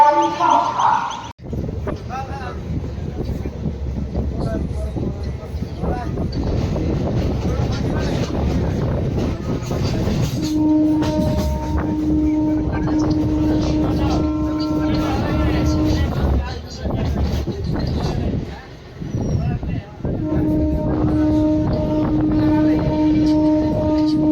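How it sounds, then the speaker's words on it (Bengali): Train pulling into a railway station platform, the Purulia–Howrah Express, with low rumbling and rolling rail noise, sustained horn-like tones, people talking nearby and station bustle. "ট্রেন আসছে"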